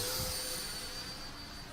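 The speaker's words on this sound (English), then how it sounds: "That L39, man, that's a nice EDF." An L-39 electric ducted fan RC model jet flies overhead with a steady, fairly faint whine and airy rush that slowly fades, heard alone without talk.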